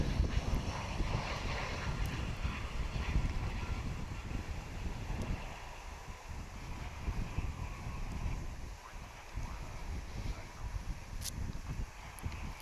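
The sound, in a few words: strong wind blowing at an airport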